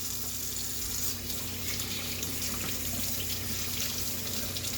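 Hot water runs steadily from a tap to rinse nitro engine air filter parts from Traxxas and Kyoshi RC vehicles, a constant hissing stream with no breaks and no talk.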